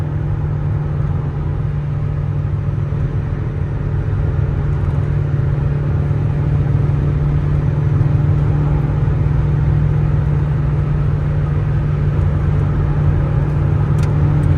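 A 1987 Toyota MR2 with 112 horsepower cruising at about 100 mph, near 5,000 RPM in fifth gear, heard as a loud, steady engine drone with deep road rumble inside the cabin and no speech.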